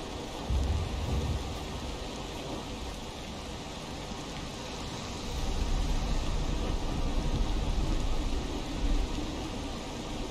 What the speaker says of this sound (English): The thunder and lightning effect.